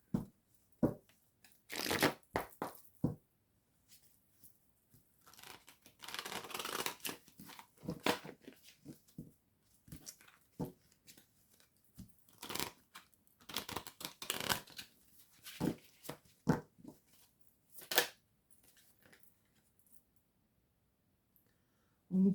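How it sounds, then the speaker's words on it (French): An energy mandala oracle card deck is shuffled in irregular bursts of crisp riffling and card slaps, separated by quiet pauses, close and fairly quiet, with no voice. "je vais commencer avec une carte de l'oracle des mandalas d'énergie"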